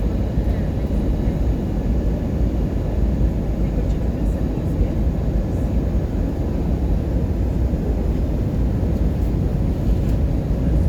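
Steady, loud low-pitched rumble of an airliner cabin during the approach to land at Queenstown's Frankton Airport, a constant engine and airflow roar with no distinct events.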